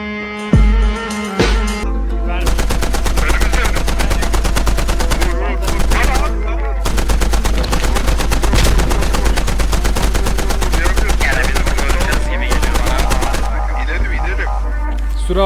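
Sustained machine gun fire in the military shooter game Squad, loud and continuous in rapid bursts lasting most of the stretch, with brief gaps between volleys and no talking over it.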